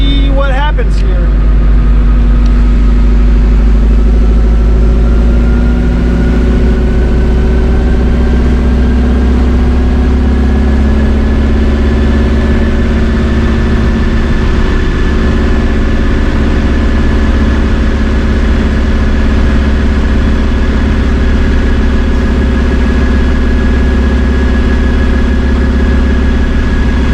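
A Subaru EJ20X engine in a JDM engine swap runs steadily for a long stretch, a loud, close, constant idle-like drone with a slowly rising tone and no distinct revs, while a person talks over it.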